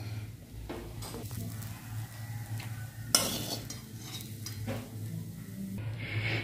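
Grated fresh coconut roasting in a metal kadai is stirred with a spatula, giving steady scraping and soft sizzling with occasional clinks of the spoon against the pan, close and moderately loud.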